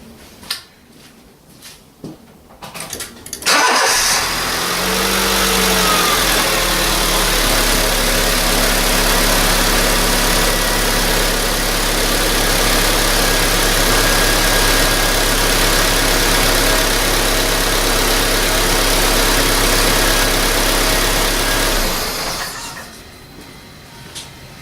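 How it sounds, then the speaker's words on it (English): A 2003 Honda Civic 1.6 engine cranks and catches, then settles into a steady, loud idle with a low, even hum for about twenty seconds before cutting off. "So I'm just gonna get the car started now."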